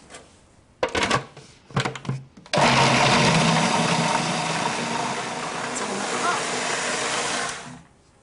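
A few short pulses of a food processor chopping onions, then a long continuous loud whirring blitz that runs for several seconds before stopping.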